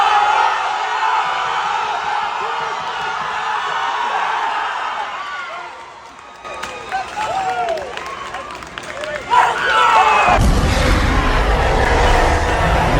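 An audience at a 2024 national powerlifting meet cheers and claps for a Canadian national record squat, loud crowd roar and whoops building, briefly dipping, then swelling into a sustained burst of applause.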